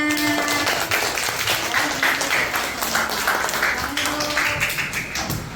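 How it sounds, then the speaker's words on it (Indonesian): Classroom of children clapping for their classmates, a burst of many small hands tapping in quick uneven rhythm that runs steadily for several seconds at close range. "Tepuk tangan untuk teman-temannya."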